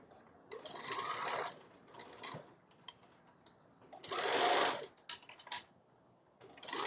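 A sewing machine stitches in the ditch along the binding of a zipper pouch in short bursts of rapid whirring, separated by quiet pauses with small clicks and handling noises.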